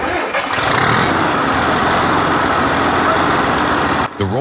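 A Rolls-Royce Diesel SF65CT marine and industrial engine fitted with a generator starts up and runs loud and close, a dense continuous roar with a deep rumble that cuts off abruptly near the end.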